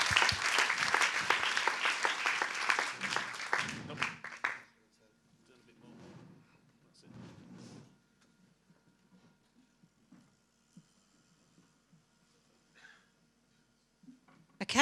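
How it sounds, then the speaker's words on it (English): Conference audience at a mobility innovation event applauds loudly for about four and a half seconds, a dense clapping wash that cuts off, followed by a quiet room with a few soft thumps and murmurs. "Can we give a round of applause to our two pictures?"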